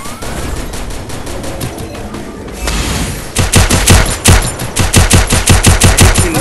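Rapid gunfire in the shooter Free Fire, with loud bursts of automatic shots in a fast rhythmic volley that grows denser and louder toward the end, alone without talk.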